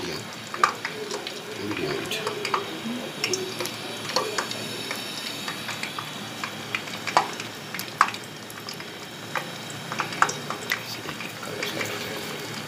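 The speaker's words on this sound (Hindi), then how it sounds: "गरम तेल में इसको फ्राई करेंगे।" Chicken roll tikki frying in hot oil, a faint, steady sizzle with scattered small pops and crackles that runs under a person talking.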